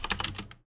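Quick keystrokes on a computer keyboard, about six close, crisp clicks in rapid succession within well under a second, then silence.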